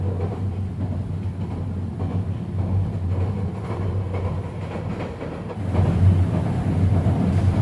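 A passenger train travelling from Dhaka toward Cox's Bazar, passing near a port depot in Chittagong, rumbles with a steady low drone heard from on board that swells louder near the end, with no talk.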